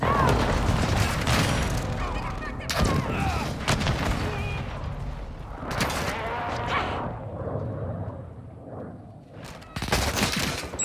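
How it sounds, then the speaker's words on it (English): Gunfire and explosions fill a Call of Duty: Modern Warfare II match in dense, loud bursts and rumbling booms, breaking off briefly before more blasts. "Friendly airstrike on the way."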